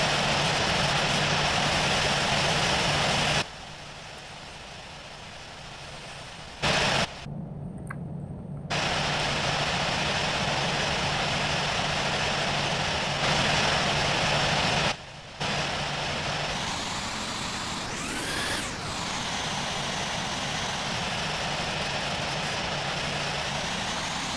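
Simulated airliner engines idle and rumble steadily as the aircraft taxis slowly along a runway in the flight game Infinite Flight, a continuous near drone with brief cuts and a rising whine partway through.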